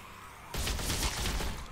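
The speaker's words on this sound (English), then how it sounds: "Why is the one AK shooting and not the pistol?" An AK rifle in the Walking Dead: Michonne video game lets loose a loud, sustained burst of rapid automatic fire that starts abruptly after a quiet moment and keeps going without a break.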